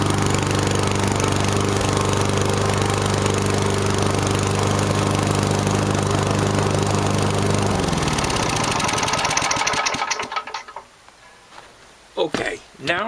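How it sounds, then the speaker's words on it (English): A 1990 lawn mower engine runs loud and steady at close range, then cuts out partway through, leaving a few faint knocks and handling sounds. "and start it. '90 mower, starts every time."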